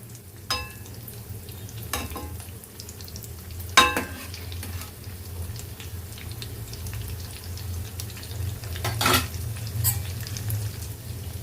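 Food frying in a pan after curd is added, turned and stirred with a few sharp scrapes of a utensil over a low, continuous sizzle, no voices.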